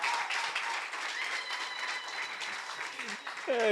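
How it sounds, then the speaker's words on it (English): Steady applause from an audience at a Safaricom Sacco launch event fills the room continuously, with a voice speaking over the clapping near the end. "Round of applause."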